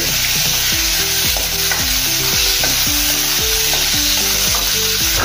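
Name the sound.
frying chopped onion and spices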